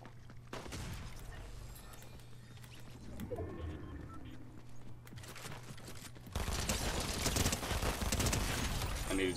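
Gunfire in Fortnite, bursts of rapid shots and sharp cracks, some distant and some close, ending in a dense loud barrage of firing.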